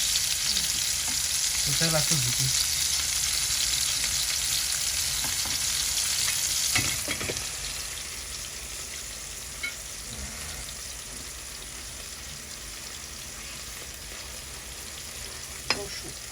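Cauliflower frying in oil gives a continuous close hiss and sizzle, louder in the first half and then settling lower, with a few clicks of stirring and a sharp knock near the end.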